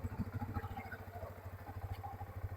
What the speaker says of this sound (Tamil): பட் அந்த ஐடியல் சவுண்ட் நல்லா இருக்குது